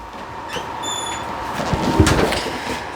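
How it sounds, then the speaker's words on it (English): A room door is shut at close range, a squeaky swing followed by a firm thump and a brief rattle, loud against a quiet room. "I'm gonna shut my door real quick."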